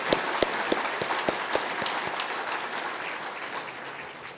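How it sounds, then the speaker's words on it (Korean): Applause from a church congregation at a Sunday worship service, a loud burst of clapping with a few sharp individual claps standing out at first, fading gradually over about four seconds. "우리 모든 우리 자녀들 축복하며 한번 박수하겠습니다"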